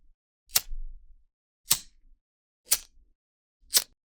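Handheld lighter of the kind used for sparklers, candles or a grill, flicked four times in a steady rhythm, each a sharp close click-strike followed by a brief soft hiss, with silence between.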